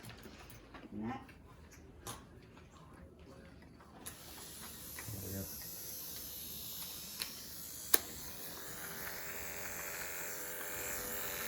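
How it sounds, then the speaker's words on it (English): Hair clippers buzz in a steady electric whine while trimming the neckline in a home haircut, a continuous mechanical hum with faint clicks and brief louder touches, running alone without talk. "Is just go in with your clippers or beard trimmer and just do a straight line"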